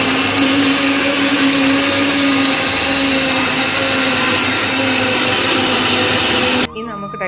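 A kitchen blender whirs loudly and steadily, blending an avocado shake in one continuous high-pitched drone that cuts off abruptly near the end.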